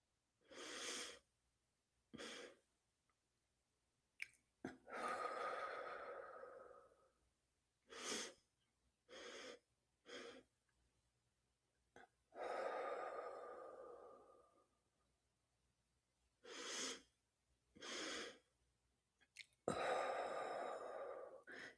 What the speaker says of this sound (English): 3 sharp double inhales through the nose, followed by a long open mouth exhale